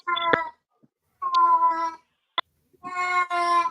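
A female cat in heat yowls loudly in three drawn-out, wavering cries with short gaps between, close by and with no talking.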